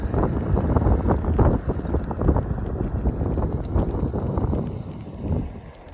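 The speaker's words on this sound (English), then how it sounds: "You can hear the wind quite bad today." Strong wind buffets the microphone outdoors above the Moray Firth, a constant low rumbling roar with gusting surges throughout.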